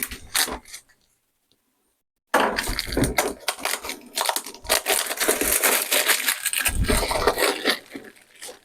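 Cardboard packaging of a Xiaomi 12T Pro box crinkles and scrapes up close, then goes silent for over a second before dense rustling, tearing and handling noises fill the rest.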